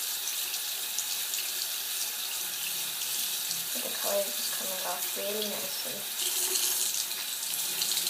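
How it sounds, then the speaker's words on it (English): Tap water runs steadily into a sink while a make-up brush is rinsed with soap, a continuous close splashing hiss that swells briefly near the end, with someone talking over it midway. "just a little bit of running water and I rub it all off."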